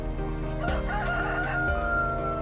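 A rooster crows loudly and close over a steady background hum of music, its drawn-out call filling the whole moment within a children's Bible story scene.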